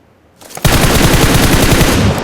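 Sustained automatic gunfire in the PUBG Mobile battle royale game, starting after a brief quiet lead-in and continuing as a loud, rapid, steady burst of shots to the end, with no talking.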